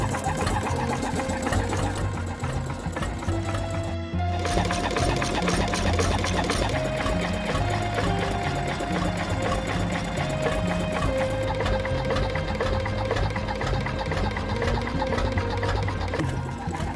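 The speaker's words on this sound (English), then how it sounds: "a stationary steam engine at the Lehman Mustard and Vinegar Works, after more than 30 years of silence" A stationary steam engine at the Lehman Mustard and Vinegar Works runs alone with a steady, even mechanical chugging and clatter, broken by a brief cut near the start, then continuing unchanged.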